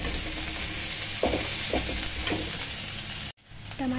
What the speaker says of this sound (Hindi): जब हमारी वेजिटेबल्स फ्राई हो जाए